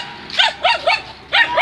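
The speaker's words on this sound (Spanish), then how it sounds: "Uno de los perritos." A small dog barking nearby, four quick yaps in two bursts, sharp and fairly loud over a quiet background, with no talk.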